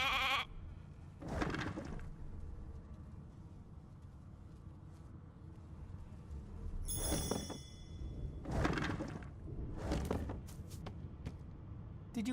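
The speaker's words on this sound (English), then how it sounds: "Hey, a sheep!" Several separate sheep bleats from the video game Divinity: Original Sin 2, loud and close, spaced a second or two apart over a quiet, faintly humming background.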